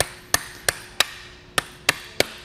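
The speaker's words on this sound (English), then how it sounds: "hit it with a rubber mallet, or in this case the side of this metal hammer" Six sharp metallic knocks from the side of a metal hammer driving a kayak carrier bolt through, spaced irregularly about half a second apart, each with a bright ringing attack and quick decay, close up with no talking.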